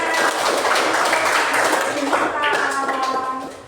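Children in an Indonesian school classroom clap together in a dense, steady burst lasting a few seconds, with young voices rising over the clapping toward the end.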